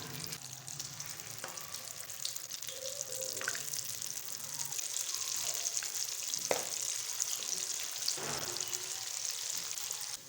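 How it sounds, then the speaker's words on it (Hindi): Chana dal mangochiyan dumplings frying in hot oil over a medium flame, a steady close sizzle and crackle with a few soft clinks and bubbling bursts, no talking. "अब ऑयल को हमने अच्छे से गर्म कर लेना है और मीडियम फ्लेम पे हम फ्राई करेंगे मगोचियों को।"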